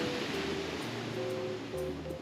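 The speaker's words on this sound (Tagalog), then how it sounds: "Ang laki-laki ng mga alon" Strong ocean waves break on a rocky shore in a steady, moderately loud wash of surf, with a low rumble and wind beneath, no talk.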